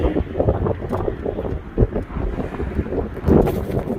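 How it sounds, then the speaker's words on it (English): Strong wind buffets the microphone in loud, uneven gusts, a continuous roaring rush with no voices, outdoors beside an Acura TL SH-AWD. "super windy"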